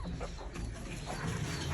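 A desi hen in a coop under the stairs clucks softly. The faint, low sound is partly buried in steady background noise.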